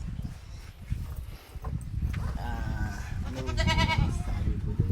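A goat bleats with wavering, nasal cries over steady outdoor rumble and background noise, getting louder toward the end.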